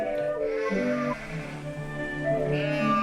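Sheep bleat in Chilean sheep country, a long, wavering, nasal bleat with others overlapping, fairly close and clear, with no talking.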